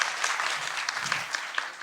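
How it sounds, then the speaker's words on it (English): Applause from an audience at a panel discussion on technology, social change and the US election in Taiwan: dense, steady clapping from many hands, moderately loud and even, with no talk over it. "So let's give him a round of applause."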